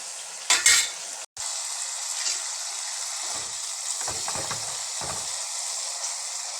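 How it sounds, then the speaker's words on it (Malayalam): Kanthari chili pickle bubbling and sizzling in a pan, a steady close hiss broken by a few scraping stirs and a brief clank of utensils, with no talk. "ഇനി ഇതിനകത്ത് കിടന്നൊന്ന് തിളച്ച് പറ്റട്ടത് ശകലം"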